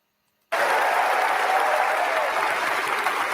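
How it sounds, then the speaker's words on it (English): A conference audience breaks into sustained applause and cheering after a moment of silence, a dense, steady roar of clapping that fills the room without pause. "Of course they're going to clap you."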